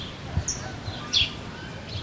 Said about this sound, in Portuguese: é possível até ouvir o canto dos pássaros